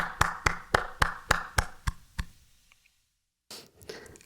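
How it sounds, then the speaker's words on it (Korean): In a church service, hands clap in thanks to God in a slow, evenly spaced series of about eight sharp claps, close and crisp, then a pause of silence before a brief new sound. "하나님께 감사의 박수 올려드립시다."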